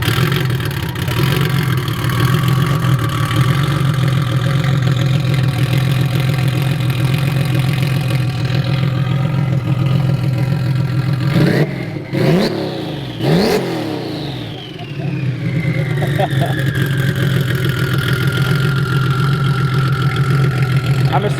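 A deep, rumbling turbocharged modified car engine idles loudly and steadily, briefly revved a couple of times before settling back to its heavy idle.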